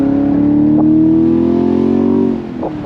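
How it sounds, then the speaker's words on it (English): A 2024 Chevrolet Camaro SS V8 holds a loud, close, rising rev for about two seconds with a smooth, harmonic-rich growl, then drops off sharply. "The V8, man, the V8!"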